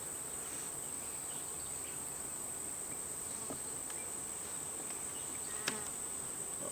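Honey bees buzz around a beehive frame in a steady faint hum, with one sharp click partway through.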